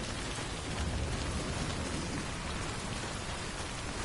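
Steady rain in a rainy area of the video game Death Stranding, a dense, even hiss of falling drops that stays constant for about four seconds, with no voices.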